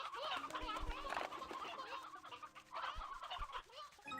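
Video-game chickens cluck and squawk repeatedly in a busy stream of bird calls, with some voice sounds mixed in.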